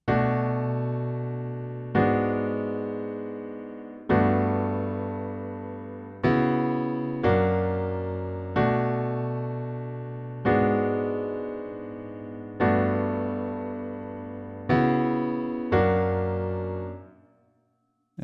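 Solo piano plays the intro to a pop song, a slow sequence of sustained chords struck one after another in steady rhythm, each ringing and decaying before the next, fading out at the end.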